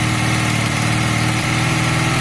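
A Honda CB250 cafe racer motorcycle engine idles steadily nearby, a continuous low, even rumble with a slight uneven pulse and no voices.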